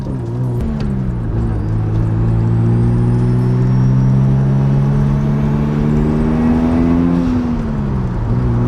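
A twin-turbo Mazda RX-7 rotary engine drones steadily while driving, with layered tones that hold, climb slightly and then drop near the end, loud and close throughout.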